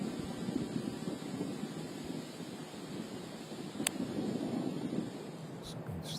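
Blustery wind sweeps across an open golf course, buffeting the microphone in a steady broadband roar that holds throughout, with a brief faint click partway and no voices.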